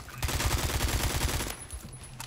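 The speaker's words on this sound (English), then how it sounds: "Full auto spam, 216 studs." Rapid full-auto AK rifle fire in the Roblox shooter Phantom Forces, a dense burst of quick evenly spaced shots for about a second and a half, then a brief pause and a few fainter sounds.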